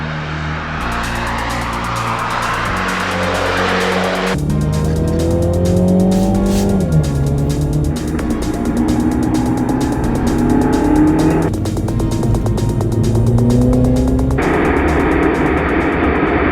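A MINI GP3 on a race track, its engine loud and close throughout, with harmonic tones rising through the revs, gear changes and steady high-speed running.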